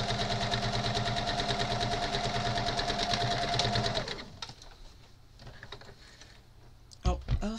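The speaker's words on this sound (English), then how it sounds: "And I'm just stitching them along." A sewing machine stitches quilt pieces together in a steady, rapid whir for about four seconds before stopping, followed by quieter handling noises and a brief clatter near the end.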